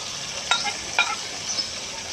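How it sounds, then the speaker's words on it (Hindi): Spices such as red chilli, coriander powder, cumin, garam masala, turmeric and garlic paste frying with tomatoes in a pan, a steady sizzle with two distinct scraping stirs of a spoon about half a second apart. "मसाले को मिक्स करेंगे टमाटर के साथ।"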